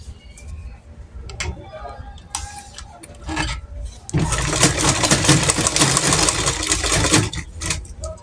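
A sewing machine stitches together the ends of a pearl bead scrunchie, starting with a few short ticking bursts and light handling noises, then running in a steady, loud, close whirring stretch before slowing near the end.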